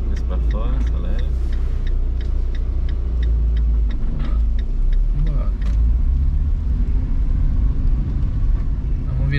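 Car driving along during a practical driver's licence exam, with a loud low road rumble and engine drone beneath intermittent clicking ticks, with people talking inside the cabin.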